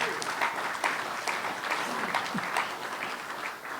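Audience applause at a sobriety meeting, a steady patter of many hands clapping at moderate distance that tapers off near the end.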